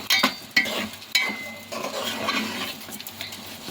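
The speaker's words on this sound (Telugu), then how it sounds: "ఇవన్నీ హైలో పెట్టి ఒకసారి చక్కగా కలుపుకుందామండి" Vegetable biryani rice and masala are stirred on high heat, with a soft sizzle under several sharp spoon scrapes against the pot, close and without speech.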